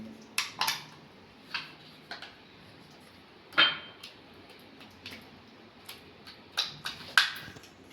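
Curd stirred with masala in a bowl for curd bread sandwiches gives scattered, irregular clinks and taps of a utensil against the bowl, set against near silence.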